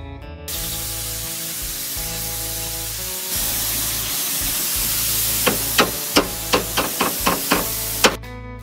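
A paint sprayer spraying paint onto garden lattices sends out a steady loud hiss that runs throughout, broken near the end by a series of sharp knocks, with no talking.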